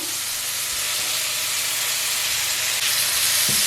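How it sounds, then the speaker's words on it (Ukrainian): Onion and mushrooms frying together in a pan, a loud, dense, continuous sizzle and hiss with a faint clink or two near the end. "Так, Цибулька обсмажилася разом з грибочками."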